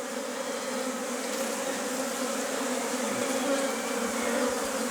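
Honeybees buzzing steadily around an open beehive during a quick early-spring inspection, a dense continuous drone that stays loud and even throughout, with no voices.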